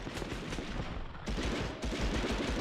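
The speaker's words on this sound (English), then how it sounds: "This pistol is not accurate at all." Rapid pistol gunfire from the video game Medal of Honor Underground, a dense, continuous barrage of loud shots with brief gaps between bursts.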